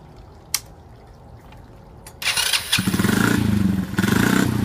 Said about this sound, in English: Roger, you want to hit the starter, see if it'll fire?